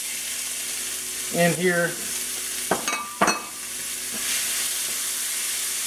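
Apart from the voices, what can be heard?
onions and poblano peppers sizzling in a pan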